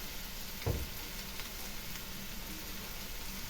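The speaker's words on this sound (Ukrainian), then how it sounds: "Поки цибулька пожариться, я капусту зараз накришу." Onions fry in a pan for a cabbage filling for varenyky, giving a soft, steady sizzle with one brief clunk near the start.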